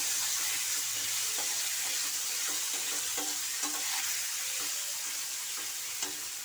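Chopped tomatoes hit hot oil with whole cumin seeds in a pan and sizzle steadily, while a spoon stirs them with repeated scraping, clicking strokes over the frying hiss.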